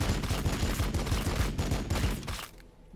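Units in the Warhammer 40,000: Battlesector video game open fire, a rapid, dense rattle of repeated shots that continues steadily before cutting off abruptly near the end.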